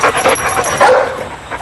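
Dog in a TV commercial giving a short series of yips, whimpers and barks, close and loud, with little else around it.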